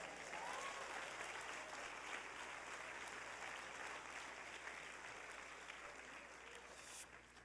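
A church congregation claps for Jesus in steady, continuous applause, heard faintly and at a distance, with the clapping slowly thinning toward the end.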